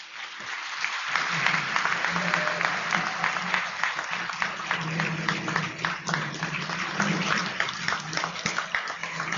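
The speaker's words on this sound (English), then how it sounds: "The crowd is coming to its feet, as is customary when the chief executive of a government is introduced." Sustained applause from a crowd rising to its feet for a state governor at a breakfast event in a hotel ballroom, dense steady clapping that fills the room throughout.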